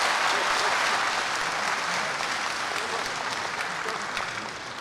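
An assembly at a national state and private-sector meeting adopts a report by acclamation with sustained applause from a large crowd. The applause is loud, dense and continuous, easing slightly toward the end.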